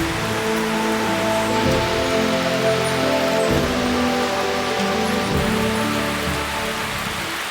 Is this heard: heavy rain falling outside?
yes